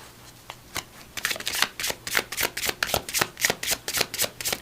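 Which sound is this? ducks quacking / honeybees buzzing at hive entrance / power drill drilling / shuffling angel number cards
shuffling angel number cards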